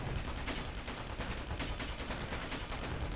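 Turret gunfire in the video game Space Engineers, a dense, rapid stream of shots firing continuously at an even rhythm, loud and close, with no talk over it.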